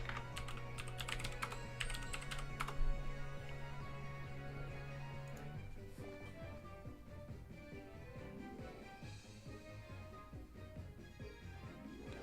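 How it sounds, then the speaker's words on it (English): Typing on a computer keyboard to send a chat message, with fast, dense key clatter that runs steadily and quietly throughout. "I'm going to type in this chat."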